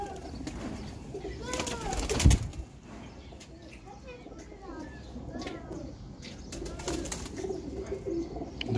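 Pigeons of an old fancy breed coo softly in a loft, low rolling coos repeating throughout amid wing flutters and a sharp thump, with faint background chatter.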